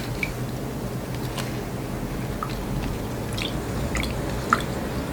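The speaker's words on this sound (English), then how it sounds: "try and rinse off a lot of the soil from these roots" Water rinses soil from the roots of a feijoa bonsai pulled from nursery stock: a continuous wet, squishy splashing runs close by, with scattered small drips and clicks throughout.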